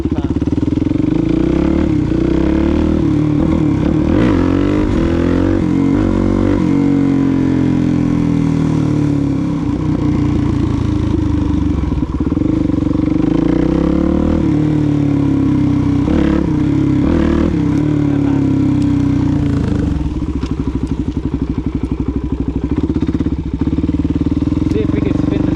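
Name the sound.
Suzuki DRZ400 dirt bike engine revving in rain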